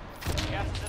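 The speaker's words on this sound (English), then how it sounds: "Somebody just shot at me." Gunfire in the shooter game Warzone, a rapid burst of shots with loud cracks over a low rumble, close and brief, with a voice audible underneath.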